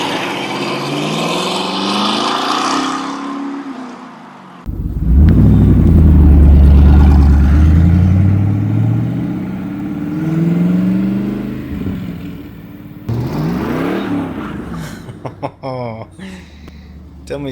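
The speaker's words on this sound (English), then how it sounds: "Only a car that loves to be alive growls like that." A 1995 Chevrolet Corvette engine growls deeply and revs up and down, loud and close, with someone speaking before and around the revving.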